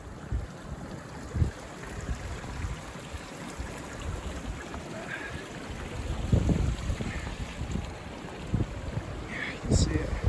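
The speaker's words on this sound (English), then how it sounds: "This was water coming directly down from the snowfields." Clear snowmelt water racing down a mountain stream on a high trail, a steady rushing wash mixed with wind buffeting the microphone and occasional louder gusts.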